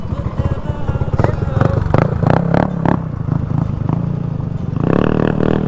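A motorcycle rides down a slope toward Saud Beach in Ilocos Norte, its engine running loud and close with scraping and rattling, while voices talk over it.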